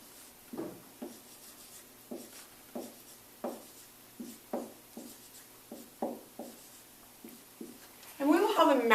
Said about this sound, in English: So, we'll write this down.